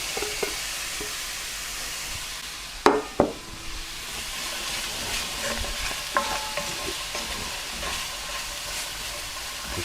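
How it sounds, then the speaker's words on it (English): Onions, carrots and celery stirred in oil in a pan over low heat, a steady close sizzle with sharp scrapes and clatters of the utensil around the third second and lighter stirring knocks later. "Just jostle them around a little bit, just to pick up any of the oils at the bottom of the pan."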